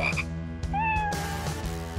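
People on the Chinese TV game show Hello Saturday imitate frog croaking with their voices, producing several loud, nasal croaks in quick succession, some held longer, up close with studio ambience.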